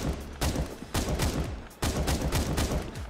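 Rapid bursts of gunfire from Counter-Strike: Global Offensive, several sharp loud volleys of shots in quick succession with short gaps between, close and dominant with no talking.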